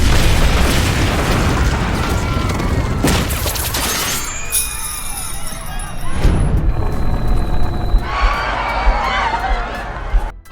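A bomb blasts beside a tower in a film scene, a loud booming explosion with shattering debris and crashing noise, followed by rumbling aftermath and chaotic crowd commotion.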